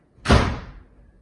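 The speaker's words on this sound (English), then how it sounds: "The mother shut the door." A door shuts with a single loud slam and a short decaying rumble, close and alone with no talk over it, used as a sound effect in a children's story.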